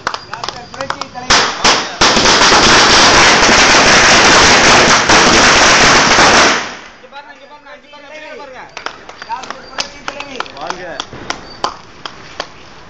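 A long, dense barrage of firecrackers crackles loudly at an AIADMK party flag hoisting, then dies away into scattered pops while people chatter nearby.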